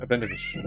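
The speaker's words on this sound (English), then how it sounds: "Yeah, that's my cat." A pet cat gives a single short, close meow, a rising then falling cry with a spoken voice overlapping it.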